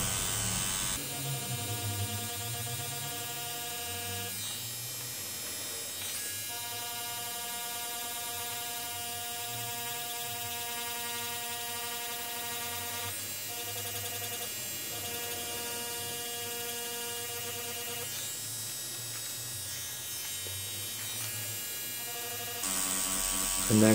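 Tattoo machine needle buzzing steadily while shading a realistic skull tattoo, a close, continuous electric hum that drops out briefly a few times before resuming.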